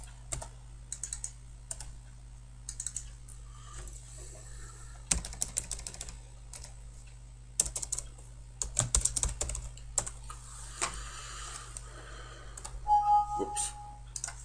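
Quick bursts of computer keyboard typing come in uneven clusters of clicks and taps over a steady low hum, with quiet pauses between runs.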